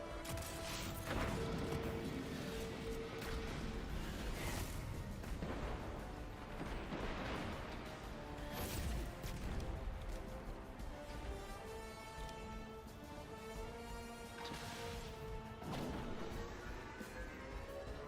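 An untested Ishtar weapon pounds enemy tanks in a video game: a run of heavy artillery-like blasts and crashing impacts, with booming bursts scattered across a dense, loud background of mechanical battle noise.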